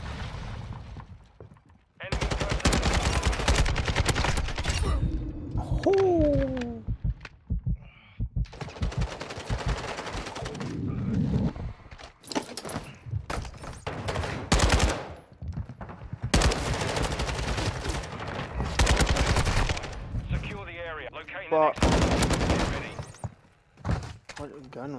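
Call of Duty ranked multiplayer gunfire: loud bursts of automatic weapon fire and single shots recur through most of the stretch, with short pauses and a few heavy thuds, while a player speaks over the action.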